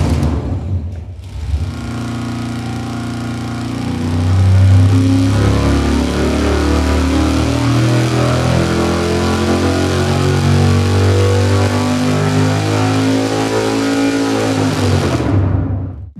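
Race engine on a dyno fires up and roars loudly at steady high revs, a dense, rumbling drone that holds for over ten seconds before cutting off.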